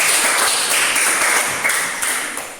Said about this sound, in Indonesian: Tepuk tangan buat kelompok C.